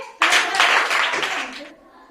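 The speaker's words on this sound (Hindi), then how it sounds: "फिर भी अंकित के लिए सभी बच्चे ताली बजाएंगे" Schoolchildren in a classroom quiz clap for a classmate, a loud, brief burst of many small hands that stops abruptly and leaves a short quiet tail.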